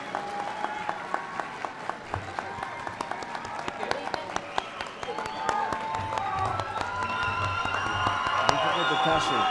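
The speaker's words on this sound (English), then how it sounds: "I'd like you to turn around and give your parents, your family members, and commitments a clap" Graduates at an adult and career education commencement clap for their families, loose scattered claps building into fuller, denser applause over crowd murmur as the ceremony continues.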